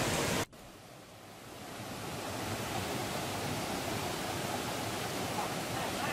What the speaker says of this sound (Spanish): es la primer cascada.